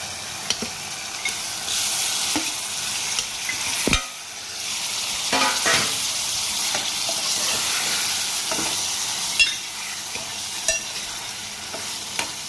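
Fish pieces and fish heads frying in hot oil in a pan, a loud continuous sizzle and hiss with occasional stirring clatters and spatula knocks throughout, no voices.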